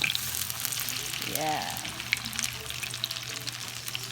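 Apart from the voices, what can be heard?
chayote patties frying in a pan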